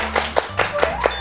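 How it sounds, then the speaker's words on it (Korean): Hands clapping about six times in a steady, even rhythm, close and moderately loud, with a faint hum behind. "박수를 몇 번 드시는 거야?"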